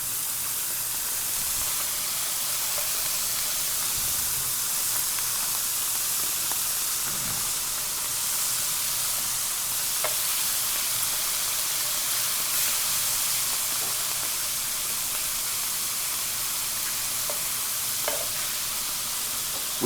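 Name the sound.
country ham frying in lard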